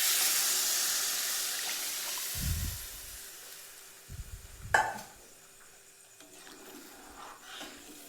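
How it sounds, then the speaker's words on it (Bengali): Water splashes into a hot pan of fried moong dal, setting off a loud rushing hiss that slowly fades, followed by a few dull knocks and a quieter simmering tail. "এর মধ্যে পুরো ভাজা ভাজা হয়ে গেছে এটা। এর মধ্যে এবার জল দিয়ে দেবো।"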